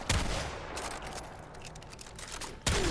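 A Tigris double-barreled shotgun with a corrosive status build fires in Warframe: a loud blast at the start and another near the end, with combat noise and ringing decay between them.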